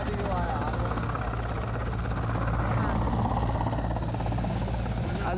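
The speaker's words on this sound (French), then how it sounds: "Dans le ciel, l'hélicoptère et l'amour de sa vie." A helicopter arrives over a tarmac with a steady loud rotor thrum and high whine that stays constant and close throughout.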